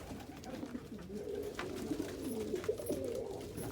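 Homer pigeons in a loft give low, soft cooing calls that roll on steadily, fairly close and moderately quiet, with no voices over them.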